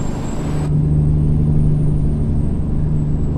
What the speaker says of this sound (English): That was from the truck that's beside me